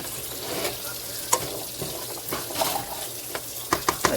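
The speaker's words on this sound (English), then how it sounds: "I'm gonna sweat out the onions first because they take the longest to cook" Onions and garlic sweat in a hot pan with a soft, steady sizzle, broken by occasional clinks and scrapes of stirring, close and moderately quiet.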